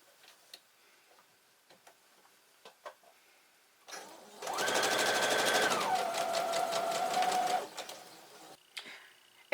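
A sewing machine chain-stitches patriotic pineapple quilt block pieces in one steady burst of rapid, close mechanical ticking lasting a few seconds, with quiet handling taps and clicks before and after.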